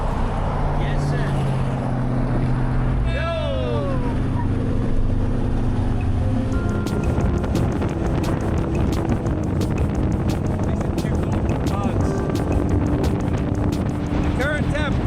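Strong wind of around 60 mph roars and buffets against the microphone outdoors in freezing cold, a steady loud rush throughout, with voices talking underneath.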